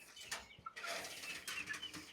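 Young chicks, two left and offered for sale, give faint, thin peeping chirps scattered over a soft background hiss.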